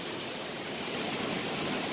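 Mountain stream flowing through a valley produces a steady broadband rush of water, continuous and even, nearby and fairly soft with no voices.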